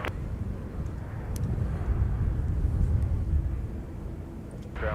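Jet airliner departing from a runway at Minneapolis–St. Paul airport, a broad steady roar that swells toward the middle and eases slightly, heard from a distance with some wind noise and no talk.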